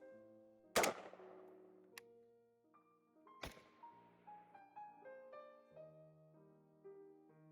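Two sharp gunshots from a pre-production L85 / EM85 rifle firing on excess gas, each a loud crack with a short ringing tail, about three seconds apart, followed by faint tonal sounds.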